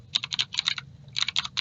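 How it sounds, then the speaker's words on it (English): A web address is typed on a computer keyboard in two quick bursts of crisp key clicks with a short pause between them, close and fairly quiet, with no talking. "So in the address bar, you're going to type in"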